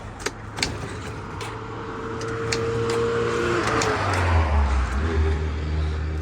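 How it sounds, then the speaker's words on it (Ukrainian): A hot Yamaha Jog SA16 scooter engine, with about 100 km on it, turns over and catches with throttle, its small two-stroke buzz rising and settling into a steady close idle after a few faint clicks. "З газом заводиться вона на гарячу."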